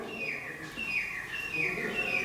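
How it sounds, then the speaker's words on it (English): A bird calls outside a dark building at night, a few thin, high chirps drifting in from a distance over faint background murmur. "I can hear a bird out there"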